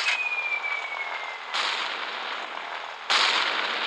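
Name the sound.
bombs exploding in the video game Gunship Battle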